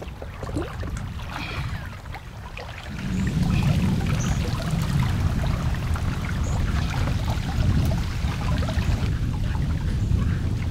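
Water pours and sloshes out of a sunken boat patched with duct tape, a rough, loud gushing and splashing outdoors that grows heavier after a few seconds and continues steadily.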